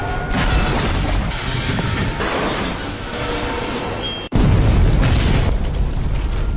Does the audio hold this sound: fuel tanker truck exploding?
yes